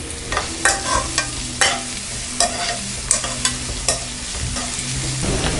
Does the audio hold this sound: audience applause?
no